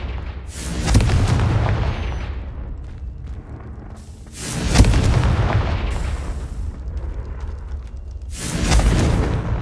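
Confringo fire spell blasts in Hogwarts Legacy, three heavy booming explosions spaced a few seconds apart, each swelling loud and then rumbling away.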